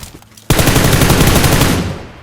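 In the game PUBG Lite, a burst of rapid automatic gunfire erupts suddenly and rattles loud and close for over a second, shooting out a car tire, then fades out.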